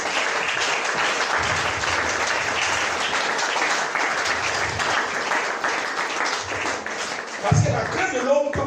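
Sustained applause from a church congregation acclaiming the Lord during a sermon, a dense, even wash of clapping hands that carries on throughout before a voice breaks in near the end.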